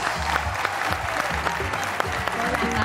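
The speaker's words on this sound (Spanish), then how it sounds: "Un aplauso para Carmen Cabeza, por favor." TV studio audience applause, a loud continuous burst of clapping from a crowd, with music and some talking underneath throughout.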